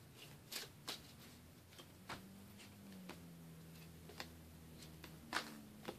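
Pokémon trading cards shuffled by hand give faint, scattered soft snaps and ticks at an irregular pace in a quiet room.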